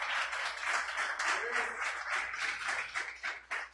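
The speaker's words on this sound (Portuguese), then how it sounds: "Você pode aplaudir o Senhor" A church congregation applauding during a sermon, a dense and fairly faint wash of clapping that rises and falls unevenly for a few seconds.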